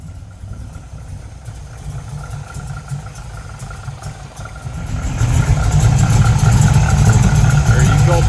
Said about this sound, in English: Let's listen to the motor now.